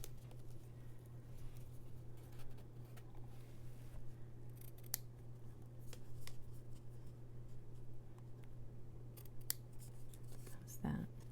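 Scissors snipping the ends of a ribbon bow during a card-making class, a few quiet cuts over a steady low hum with faint background rustle.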